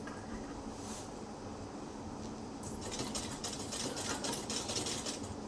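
A sewing machine stitches layered fabric with a quiet, continuous whirring hum that grows a little busier and brighter partway through, close by with no voices.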